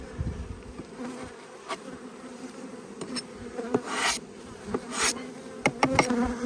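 A steady, close drone of many honey bees humming together in an open hive during inspection, with scattered clicks and rustling scrapes over the continuous buzz.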